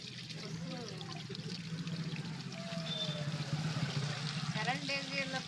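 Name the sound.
municipal drinking water pouring from a tap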